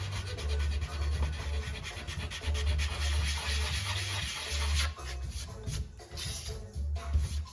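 Sheet of 400 grit sandpaper rubbed back and forth over wood on a model train layout, a close, continuous scratchy sanding texture with no voices.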